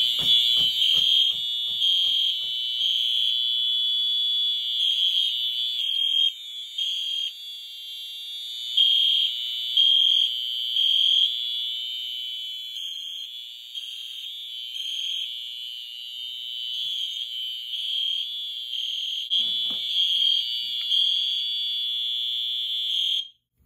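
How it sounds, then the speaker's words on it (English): A fire alarm system sounds after a pull station is pulled during a panel test: loud, steady high-pitched electronic alarm tones pulse continuously and close by, with a few faint low clicks early on. "I guess we'll begin by pulling the Silent Night pull station and seeing these devices go off."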